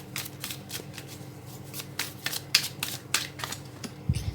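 Tarot cards are shuffled and drawn during a reading, making a series of quick papery riffles and crisp snaps at close range, with irregular bursts and no speech.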